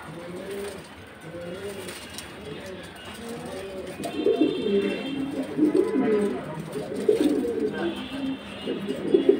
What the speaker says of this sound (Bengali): দর্শক, কবুতরের সাইজ গুলো দেখুন, খুবই বড় বড় সাইজের, যেগুলো বিক্রি করে দেবে ভাই।